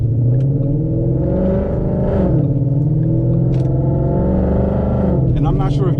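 An automatic car's engine drones loudly in low gear with a deep steady rumble that swells and dips as revs change, while a person talks over it.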